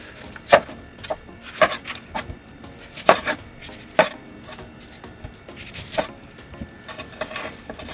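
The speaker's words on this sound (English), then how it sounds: "cut up my mango" A knife chops through mango on a cutting board in a home kitchen, sharp irregular thuds landing in uneven bursts, close and fairly loud, with no talking.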